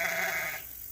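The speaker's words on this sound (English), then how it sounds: "You hear our lamb and goats." Sheep and goats on a farm, with a lamb among them, give a fairly loud, bleating bray for about half a second before it fades into quieter field ambience.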